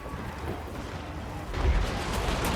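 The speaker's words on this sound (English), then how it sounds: "You fired the pistol." A single heavy pistol-like shot bursts out partway through a Warhammer video game battle, sitting over a dense low rumble of clashing combat noise that continues afterward.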